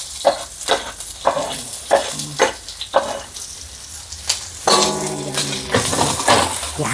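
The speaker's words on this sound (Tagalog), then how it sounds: "hintayin po muna natin mag-brown yung bawang" Garlic, then onion, sizzling and frying in a pan, with spoon stirring and clinking against the metal throughout, sounding close up and steady, with a fuller hiss building in the second half.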